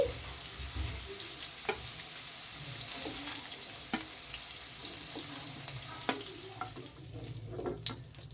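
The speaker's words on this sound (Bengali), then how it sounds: "দেখো বন্ধুরা আমার এটা হালকা ভাজা হয়ে গেছে এবার আমি এটাকে এক এক করে তুলে নিচ্ছি" Paneer cubes fry in oil for spinach-and-paneer curry, giving a soft, continuous sizzle at low volume with occasional light clicks as pieces are lifted out one by one.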